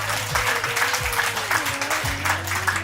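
Crowd at an International Yoga Day gathering clapping after a performance, a steady patter of applause with a low hum and a voice-like tone running underneath.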